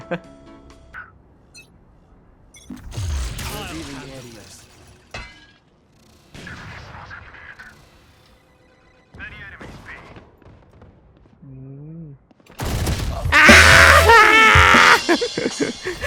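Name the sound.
spray of gunfire in the video game Valorant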